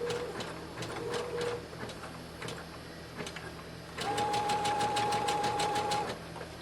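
Domestic sewing machine stitching and pivoting along a seam on an 18-inch doll dress bodice, running in short bursts with rapid mechanical ticking, then a longer, louder steady run with a whining motor tone; no talking.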